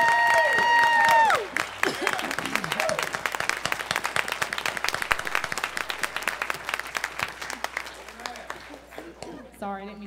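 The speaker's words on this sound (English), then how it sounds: "please stand up so we can give you a round of applause" A church congregation applauds first responders standing among them, a dense burst of clapping that starts after a voice and a sustained musical tone, then continues steadily and loudly for several seconds before tapering.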